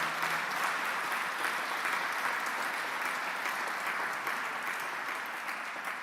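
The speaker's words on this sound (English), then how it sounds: "how about a round of applause for all of these honorees here tonight?" An audience gives a steady round of applause for honorees at an evening event, a continuous wash of many hands clapping, fairly even in level, heard alone without talk.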